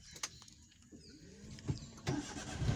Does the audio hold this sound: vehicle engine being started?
yes